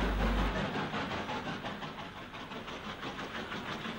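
A BR Standard 2-6-2 tank steam engine hauls empty coaching stock from the Clapham Junction sidings up to London Waterloo, a steady rumble carrying through with a faint rhythmic beat.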